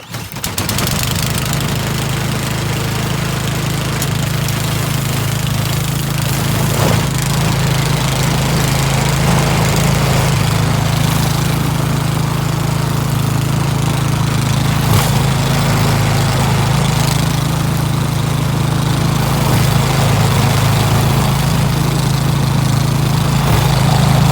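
A snowblower engine that won't throw snow runs outdoors, a steady loud small-engine drone with a rough knocking rhythm, continuous throughout with no talk.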